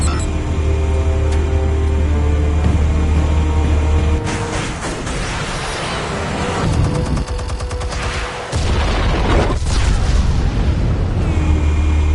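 Explosions in Batman: The Telltale Series: a loud, sustained barrage of booming blasts and rumbling debris, dense and continuous with brief dips, no voices over it.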